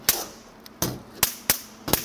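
Cheap electric bug zapper crackling as it zaps swarming mayflies, a series of five sharp, loud snapping bursts at irregular intervals with quiet gaps between.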